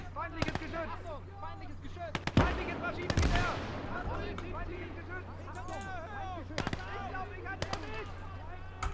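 Gunfire and explosions in the World War II video game Call to Arms: Gates of Hell, Eastern Front, with sharp shots cracking at irregular intervals and a heavy blast midway, set against a low steady hum and chirping ambience.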